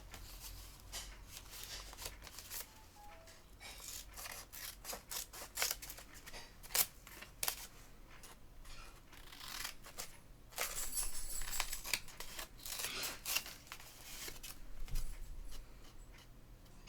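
Scissors trim paper for a friendship journal in a craft studio, with a run of sharp, close snips spaced irregularly and a few quick clusters of cuts.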